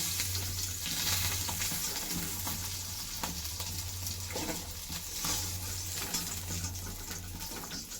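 Singi fish frying in hot oil, a dense continuous sizzle close up with a few faint stirring scrapes, no voices.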